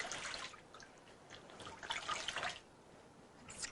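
Cold water for a hydrotherapy fomentation treatment splashes and trickles softly in intermittent bursts, faint and close, with quiet pauses between pours.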